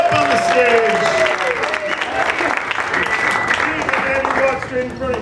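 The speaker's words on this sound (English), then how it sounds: "Big round of applause for Steve as he makes his way up on the stage." Crowd applause at a celebration-of-life gathering as a volunteer walks up onto the stage, loud continuous clapping with cheering and voices mixed in throughout.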